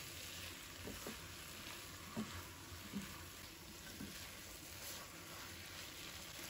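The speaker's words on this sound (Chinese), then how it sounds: "然后把红椒也加进来，继续开大火，快速的将它翻炒一下，翻炒均匀。" Eggplant and red pepper are stir-fried over high heat, a constant bright sizzle running throughout with a few soft spatula knocks scattered across it, heard near and without any speech.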